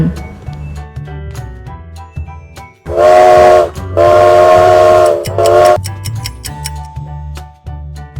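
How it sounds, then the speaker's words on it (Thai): A train whistle sounds in three loud, drawn-out blasts, rising out of light background music that continues before and after. "เสียงรถไฟ"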